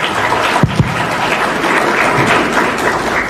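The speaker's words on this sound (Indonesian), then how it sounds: "sama-sama kita berikan aplaus yang meriah untuk Bapak Anies Rashid" An audience at an ITB inspirational talk event applauds Anies Baswedan with steady, loud massed clapping that carries through the whole stretch, with a couple of sharper claps near the start.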